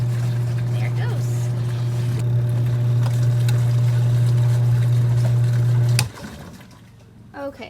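An off-grid washing machine running its rinse cycle gives a loud, steady motor hum with sloshing water for about six seconds, then cuts off abruptly to near quiet.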